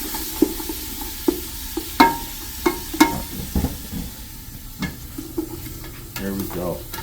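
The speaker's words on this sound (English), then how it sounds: "Got that nice sound that it's cooking, you hear it?" Lasagna ingredients sizzle and crackle in a hot pan, with occasional sharp clinks and scrapes of a utensil stirring, close up and steady.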